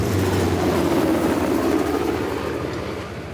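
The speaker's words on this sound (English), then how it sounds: "How the hell did Tusk get that helicopter?" Helicopter in flight in Uncharted: The Lost Legacy, a loud, steady rotor roar with low chopping throb that holds close for a few seconds, then begins to fade slightly as it moves off.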